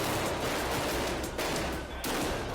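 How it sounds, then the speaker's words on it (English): A dense, continuous volley of gunfire from a shooter and police officers exchanging shots in an active shooter incident, loud and rapid cracks overlapping with barely a pause. "opens fire, and the officers quickly respond."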